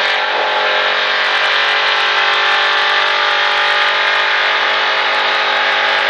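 A sprint car engine at full throttle on an oval race track, a loud, sustained high-pitched roar with steady revs and dense harmonics through the whole stretch, no voices over it.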